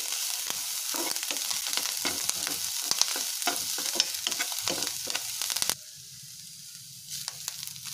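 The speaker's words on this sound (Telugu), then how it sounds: "కరివేపాకు వేసుకొని ఫ్రై చేసుకోవాలి" Curry leaves fry with onions in a pan for a spinach fry, giving a busy sizzle with repeated stirring scrapes that suddenly drops to a quieter, faint crackle near the end.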